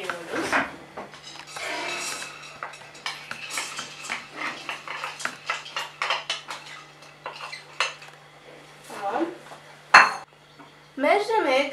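Metal pots and utensils clink and scrape up close as lentils go into a cooking pot, a busy run of sharp knocks and rattles with brief quiet gaps and a faint voice in the background.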